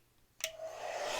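A hair dryer switches on and blows steadily to dry paint on an art piece, starting with a sharp burst and settling into a continuous rushing whir that stays loud and constant to the end.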